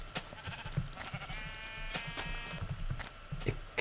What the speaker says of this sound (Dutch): Daar is nog een schaap.